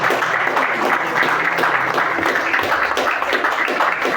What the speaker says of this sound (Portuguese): Vamos receber com salva de palmas em nome de Jesus.